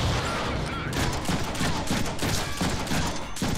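Rapid, continuous gunfire in the Deadpool video game, a loud sustained barrage of overlapping shots running the full length with no talking over it.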